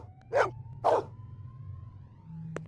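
In the Blade Runner video game, the dog Maggie lets out two quick close barks over a low ambient drone with a faint whistling tone, followed by a brief click.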